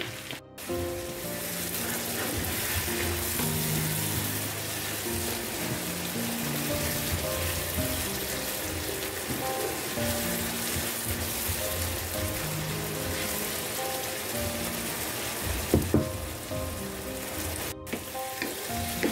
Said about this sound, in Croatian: I kada sam prodinstala šampinjone i luk zajedno